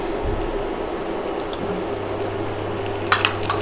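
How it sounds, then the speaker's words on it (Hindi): Water poured into a paneer pasanda gravy in a pan, a quiet steady liquid stream with low bubbling, ending in a few small clinks and splashes, with no talking. "अब इसमें हम डालेंगे पानी"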